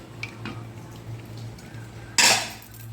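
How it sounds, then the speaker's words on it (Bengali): A metal lid lifted off a cooking pot of goat curry, a few faint taps and clinks followed by a sudden loud hissing rush of released steam, close, with no talking. "চলো এরপর আমি খুলবো ঢাকাটা"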